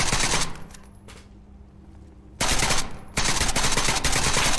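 Loud automatic gunfire in the video game SCP Pandemic, a dense rapid burst that stops, leaves a quieter stretch with faint ambience, then resumes in two sustained volleys.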